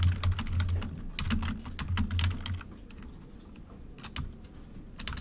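Fast, steady typing of code on a computer keyboard, with dense clusters of close key clicks that come in bursts, then thin out to occasional keystrokes, with a low background hum and no talking.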